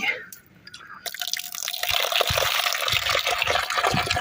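Water pouring into a container in a rural Pakistani household, a rushing, splashing stream that starts after a quiet moment and builds to a steady gush, with faint dripping and voices in the background.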